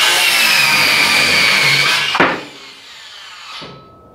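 A Bosch CCS180 18V cordless circular saw cuts wood blocking for sheetrock on a jobsite, a loud high whine through the cut that drops sharply as the blade spins down and stops.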